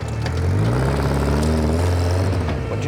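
A Locost 7 kit car pulling away over a very short distance as it runs through its gears, its engine loud and close with a rising then shifting mid-pitched drone and no talking.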